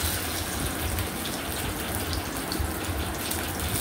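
Fish kebabs frying in hot oil, a dense steady bubbling hiss that sounds almost like running water, continuous and moderately loud with no talking.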